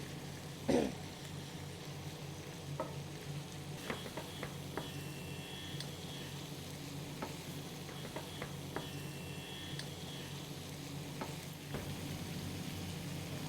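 Shrimp and tofu cook in a pan with a low, even sizzle throughout, punctuated by scattered faint clicks and taps and one brief louder knock early on.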